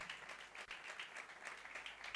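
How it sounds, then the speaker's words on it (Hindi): Steady applause from a crowd, continuous clapping without pause, heard at moderate distance. "जोरदार तालियां बजाएं इनके लिए।"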